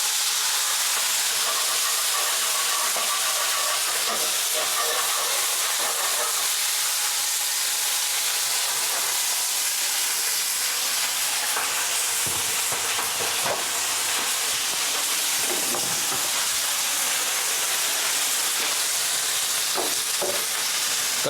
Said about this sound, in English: Now this water is going to create a steam and that's going to cook out the broccoli.